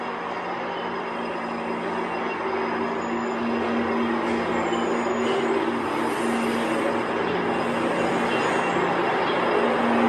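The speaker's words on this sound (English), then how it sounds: "That's another GO train." A GO commuter train in Toronto rumbles past continuously and steadily, a loud, broadband rushing roar with a sustained low hum throughout, growing slightly louder toward the end.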